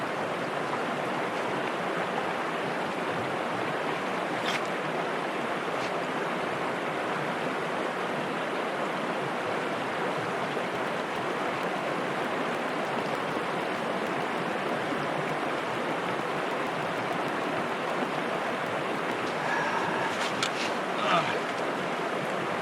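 A river flowing: a continuous, even rush of water, moderately loud and close, with only faint scattered clicks and no talk over it.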